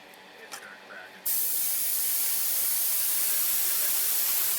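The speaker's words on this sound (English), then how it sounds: "I'm just going to use it with my airbrush." An airbrush sprays flat clear coat onto an AMT AT-AT model kit, starting with a sudden switch-on into a loud, steady hiss that continues evenly. Brief speech comes just before the spray begins.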